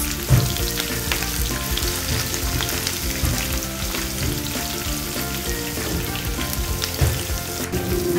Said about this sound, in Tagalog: Lutuin po natin ang bawang at sibuyas.